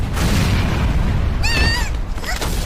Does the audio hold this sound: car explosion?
yes